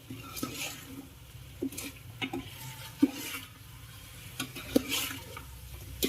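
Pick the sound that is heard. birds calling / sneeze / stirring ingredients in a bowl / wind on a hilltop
stirring ingredients in a bowl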